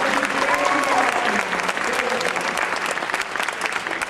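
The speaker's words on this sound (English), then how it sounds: "Please give them all a huge round of applause" Pageant contestants receive a big round of applause from the crowd at a Miss NWA talent competition, thick continuous clapping close and loud with faint voices and cheers mixed in.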